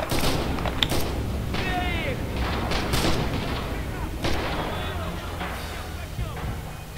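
Artillery fire in the World War II game Red Orchestra 2 during a bridge battle, repeated heavy booms and thuds with rumbling impacts and scattered gunfire, while people talk over the noise.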